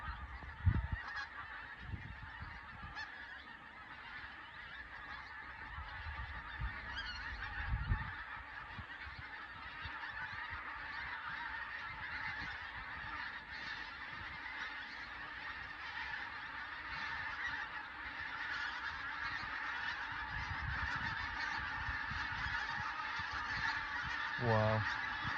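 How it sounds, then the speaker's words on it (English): Huge flock of thousands of pink-footed geese honking over a marsh, a dense continuous chorus of overlapping calls at moderate distance, steady throughout with a few nearer low thumps and handling noises. "As we're leaving, a massive flock of pinkfoot. Huge, there is thousands of them."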